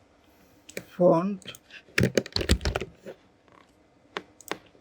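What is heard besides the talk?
typing a name on a computer keyboard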